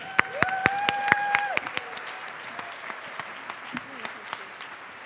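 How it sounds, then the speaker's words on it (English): Applause at an annual dinner rises in sharp, distinct claps while a speaker's voice carries over the start, then thins to scattered, fading claps. "So let's give her a round of applause."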